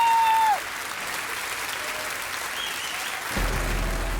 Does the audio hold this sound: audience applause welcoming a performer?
yes